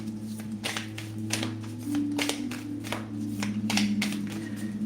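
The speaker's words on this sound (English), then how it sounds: "let me shuffle your message from Rumi" Oracle cards being shuffled in the hands, a quiet run of soft riffling flicks over a steady low hum, with no talk.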